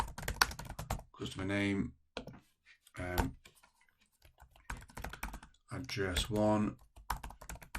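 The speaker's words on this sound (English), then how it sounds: "I'm going to type customer here" Computer keyboard typing while building a spreadsheet header in Microsoft Excel: bursts of close, quick key clicks alternate with a person talking over and between them.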